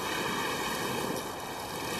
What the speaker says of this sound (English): The waves are becoming violent.